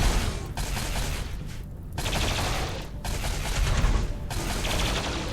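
Heavy battle gunfire in the Rimworld video game, dense overlapping fusillades of shots and machine-gun bursts running continuously and loud, with only brief dips between volleys.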